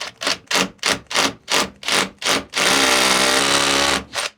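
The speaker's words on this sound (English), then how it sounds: "I am drilling on an angle because this is the mortar right here, and I'm going into the top of the brick" A drill bores into the top of a brick beside the mortar joint in masonry, sounding as about eight short, evenly spaced grinding bursts followed by one long sustained run and a final short burst, close and loud.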